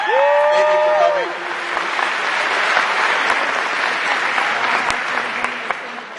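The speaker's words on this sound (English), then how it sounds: "Give yourselves a round of applause." An audience at an event breaks into sustained applause, dense clapping from a small group held steady for several seconds, while a voice speaks briefly at the start.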